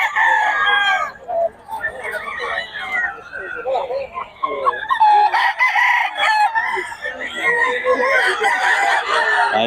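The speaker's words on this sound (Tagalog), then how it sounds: "Mga manok ni boss." Several roosters in a Pangasinan yard crowing loudly and close, drawn-out calls overlapping one after another, with clucking and people talking underneath.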